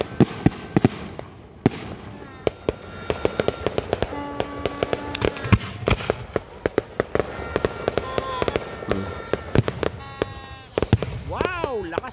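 New Year fireworks with whistling rockets: rapid, irregular bursts and sharp cracks crowd the scene, while several rising whistles climb and fall, one prominent near the end; the display sounds fairly close and loud, with some voices in the background.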